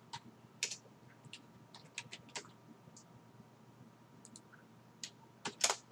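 Computer keyboard keys tapped in irregular bursts while code is typed, the clicks close and fairly quiet over a faint steady background hum.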